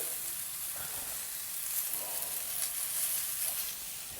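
Onions sizzle and fry steadily in hot oil in a pan for a lamb chop side dish, a dense close crackle with faint stirring and no talk.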